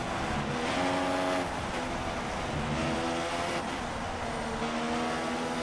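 F1 race car engine in F1 2016 roaring steadily at high revs during an overtake, a dense continuous whine that swells slightly and holds, with no talking over it.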